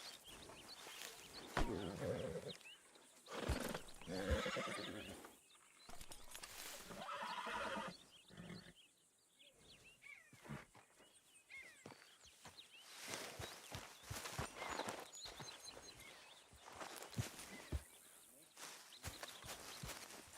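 A horse whinnies and snorts amid hoof clops in the video game Red Dead Redemption 2, with people talking over it throughout.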